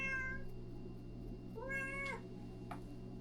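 A cat meows twice inside a cabin in freezing winter, each a short rising-falling cry, close and moderately loud over a steady low hum.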